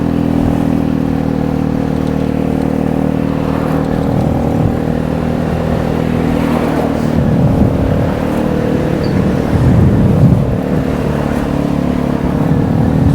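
A Vespa scooter engine runs steadily and loudly while riding through local lanes, a constant low drone with slight rises in pitch and road rumble, no voices.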